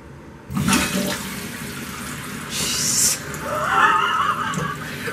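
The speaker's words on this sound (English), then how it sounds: "we're going to turn the water back on" Water rushes back into a toilet fitted with a newly installed bidet attachment, a loud sustained gush and hiss after a sharp start, swelling again near the end as the bowl and tank fill.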